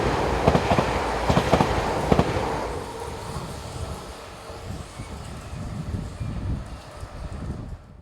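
An AM08 electric multiple unit passes in Belgium, with loud close rhythmic wheel clatter in the first seconds, then a steady, fading rolling rumble.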